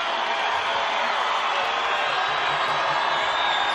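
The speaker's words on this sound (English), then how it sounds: "you can feel the crowd for the first time in a long time is trying to aid this Lobo team" A basketball arena crowd roars steadily for the New Mexico Lobos against Wyoming, a dense, sustained wall of cheering with a commentator talking over it.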